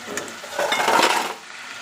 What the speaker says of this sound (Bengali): এবার চিকেনের সঙ্গে ভালো করে আদা রসুনের পেস্টটাকে কষিয়ে নেব ভালো করে নেড়ে নেবো যতক্ষণ এর কাঁচা গন্ধটা না চলে যায়